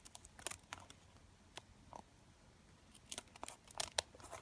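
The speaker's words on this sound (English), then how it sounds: "I use my scissors and I go ahead and I cut around it" Scissors cut paper around a heart template in short, irregular snips and crunchy paper rustles, fairly close but quiet, with clusters of cuts near the start and end.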